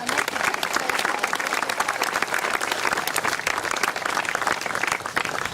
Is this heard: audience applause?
yes